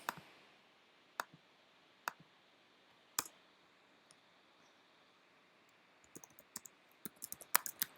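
Sparse clicks of typing on a computer keyboard, a few isolated keystrokes spaced about a second apart, then a quicker flurry of taps near the end, close and quiet in a silent room.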